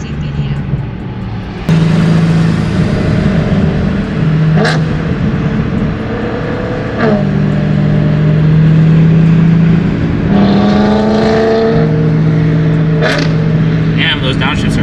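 Single-turbo BMW M3 CS engine revving hard through downshifts, a loud sustained drone with pitch steps and throttle blips, close by and continuous.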